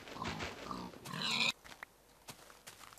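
Pig oinking in the video game Minecraft, a short burst of grunts up front, fairly close and clear, followed by fainter game noises and quiet clicks.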